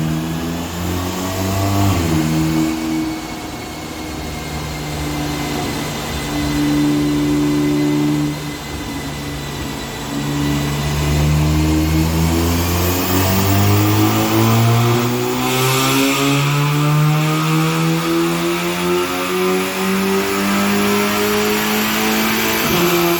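A car with a JB4 tune runs on a dyno, its engine revving hard through rising and falling sweeps, loud and close with no talk over it.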